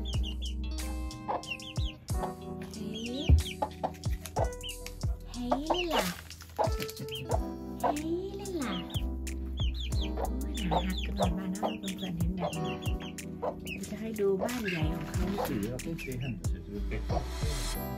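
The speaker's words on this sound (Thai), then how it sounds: "ไหนไก่ตัวเล็กไก่ตัวน้อย" Chickens in a coop on a Swedish farm cluck, squawk and chatter close by in a busy, overlapping stream, with a voice talking among them at times.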